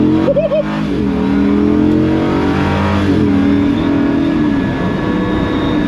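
An LS V8-swapped Bowler Wildcat accelerates hard and spins its wheels. A loud, close engine roar holds steady throughout with rising revving tones and no pauses.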